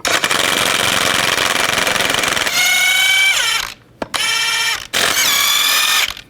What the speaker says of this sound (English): Take the lug nuts off, use the same 22mm socket.